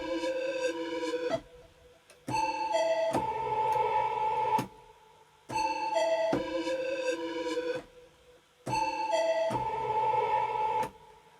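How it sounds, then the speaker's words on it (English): Synth counter melody from the Output Arcade Obsidian pack for a UK drill beat, plucky bright tonal notes in repeating phrases with short gaps, moderately quiet and steady, with no voices. "I've managed to find a nice counter melody in Output Arcade"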